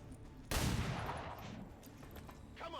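Two shots fired in the XCOM 2 video game make one loud burst of gunfire that fades into a lingering rumble and reverb, fairly quiet overall.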